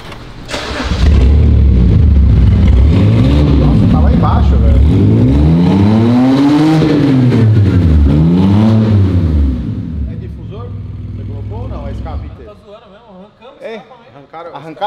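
A Chevrolet Celta 1.0 small car engine, with its exhaust removed, revs loudly several times in rising and falling sweeps close by, then settles to a rougher idle. People talk over the engine.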